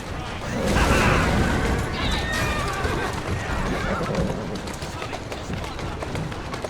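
Horses pulling carriages through Victorian London streets in Assassin's Creed Syndicate whinny loudly among dense clip-clopping hooves and rolling wheels, with voices talking throughout.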